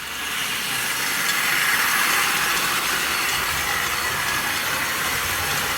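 A 1960s Hornby Dublo model train runs on track with a steady rushing, rumbling sound, continuous and fairly loud with no voices.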